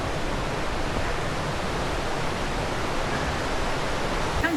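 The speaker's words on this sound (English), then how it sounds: "we're coming down to a pretty strong flowing stream down through the tree roots" Strong stream tumbling down through tree roots in a gorge, a loud, continuous broadband rush of water close by, unbroken and steady with no voices.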